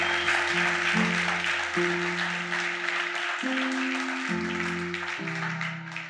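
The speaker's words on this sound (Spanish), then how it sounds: "Vamos, fuertes aplausos al Señor." Loud, sustained applause from a church congregation in Barcelona, a dense steady roar of many hands under shifting sustained keyboard chords.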